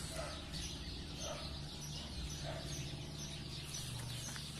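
Sparrows chirp in a mango tree at a home garden, with bird calls and clucking-like chatter layered over a steady outdoor background, fairly distant and continuous, no one talking.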